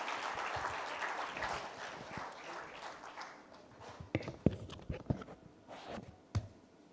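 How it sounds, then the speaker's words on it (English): Applause from a conference audience at a medical value travel summit, a soft, fairly distant wash of clapping that fades into scattered individual claps and light shuffling. "Can we have a huge round of applause, ladies and gentlemen?"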